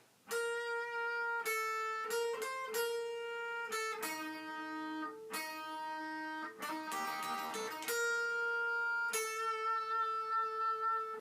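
Solo electric guitar picks out a battle theme from Pokemon Omega Ruby/Alpha Sapphire, separate ringing notes with a brief strummed flurry in the middle, clear and close.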